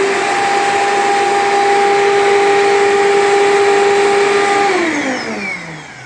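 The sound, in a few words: Bissell CleanView Bagless 8975 vacuum cleaner running, grinding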